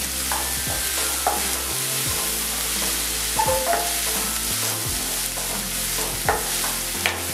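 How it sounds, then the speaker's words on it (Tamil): Finely chopped onions sizzling and being stirred in a hot oiled pan with ginger, a steady loud frying hiss broken by repeated scraping stirs of a spatula, with no voices. "இது நல்லா பொரிஞ்சதுக்கு அப்புறமா ஒரு 2 பெரிய வெங்காயத்தை பொடியா நறுக்கி வச்சிருக்கேன், அதை சேர்த்துக்கலாம். ஸோ வெங்காயம் நல்லா வதங்கட்டும்."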